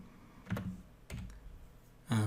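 Typing on a computer keyboard while writing a console statement in C# code: a few short clustered bursts of key clicks with pauses between, close and fairly quiet, ending in a louder flurry of keystrokes.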